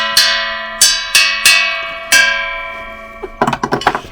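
Artillery shell casing hung and struck like a bell, used for recording bell sounds: five loud, ringing metallic strikes with long sustained tones decaying between hits, followed by a quick cluster of lighter clanks.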